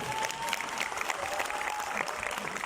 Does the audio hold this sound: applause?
yes